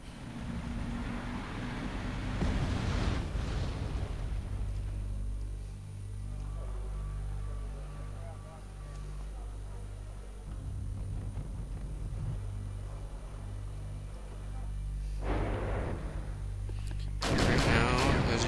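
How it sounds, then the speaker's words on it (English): Distant artillery salvos in Wargame: European Escalation, deep booming rumbles rolling under a steady low drone, with a heavier burst near the end. "I'm redirecting my artillery fire over here"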